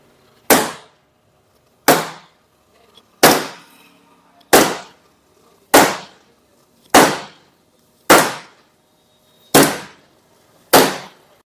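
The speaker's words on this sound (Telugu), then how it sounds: "అది చెప్పడం కన్నా ఈ సుత్తితో చూయిద్దాం అనుకుంటున్నాను" An iron hammer strikes the body of an electric scooter nine times in a steady rhythm, roughly one blow every 1.3 seconds. Each hit is a loud, sharp, close impact that rings briefly and decays, with near silence between blows.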